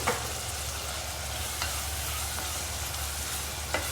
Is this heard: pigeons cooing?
no